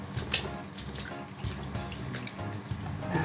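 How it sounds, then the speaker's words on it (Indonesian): Vegetables rinsed under a running kitchen tap, a steady close splashing stream of water with small irregular spatters and drips, heard alone without talk. "Atau bisa juga kita langsung cuci dengan air mengalir seperti ini jika yakin tidak ada kotoran ya."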